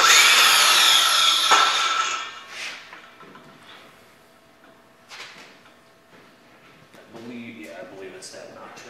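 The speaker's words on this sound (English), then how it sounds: "make sure you set the depth on your saw so that the blade itself barely comes through the bottom" A circular saw with its blade depth set to barely clear the bottom cuts wood for a coaming bolster on a Sea Ray Sundancer boat, loud and whining for about two seconds, then winding down into quieter workshop handling noises and scattered bumps.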